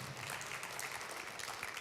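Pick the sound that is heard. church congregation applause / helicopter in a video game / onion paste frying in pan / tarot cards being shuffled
church congregation applause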